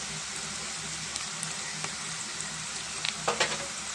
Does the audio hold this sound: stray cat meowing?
no